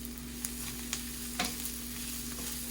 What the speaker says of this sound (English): And let that fry.